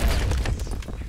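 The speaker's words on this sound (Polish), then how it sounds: "Przeżyłem wybuch." A loud explosion in the Battlefield 3 video game, a heavy booming blast up close that rolls off over about a second, with no talking.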